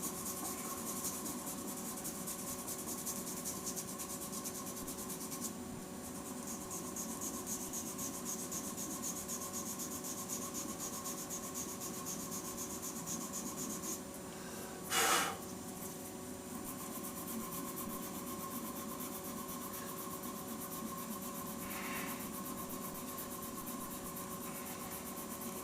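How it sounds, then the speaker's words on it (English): A hand rubbing the wooden handle of a handmade shaving brush, a soft continuous friction hiss that goes on steadily, broken once by a brief knock near the middle. "I'm just going to give that a hand rub"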